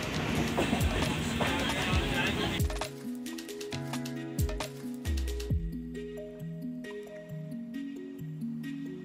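The Doon Express runs on its rails with a loud rumbling roar at first, then gives way to quieter creaks, clacks and intermittent tonal squeals from the carriages, all close and without talk.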